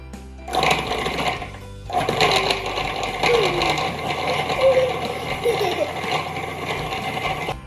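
Kitchen mixer pulsing butter and sugar for sugar cookies, a steady mechanical whir that starts and stops in short bursts with brief gaps between, close and fairly loud.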